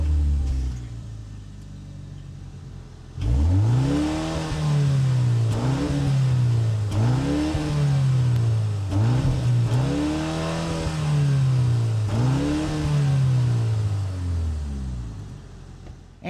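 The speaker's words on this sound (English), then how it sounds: "Let's go ahead and fire it up so you guys can hear how it sounds real quick." A 2025 BMW M235 Gran Coupe fires up after a few quiet seconds, then its engine is revved repeatedly in rising and falling blips of about two seconds each, loud and close, with no talking.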